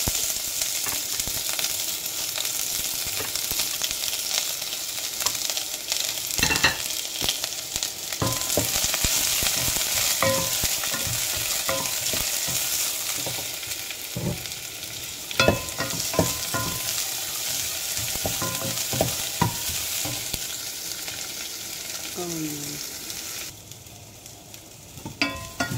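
Garlic and then onion sautéing in a hot pan for chicken tinola, a steady close sizzle and crackle of frying with occasional scrapes and clinks of a spoon stirring, no talking.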